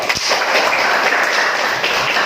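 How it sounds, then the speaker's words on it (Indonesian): A class of students clap their hands together in a classroom, a loud, continuous wash of many hands clapping close by that carries through the whole moment. "Tepuk tangan semua."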